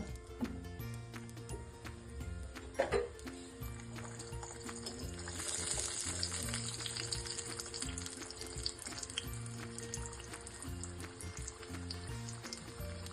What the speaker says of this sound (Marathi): पुरी छान ब्राऊन रंग येईपर्यंत तळून घ्यायची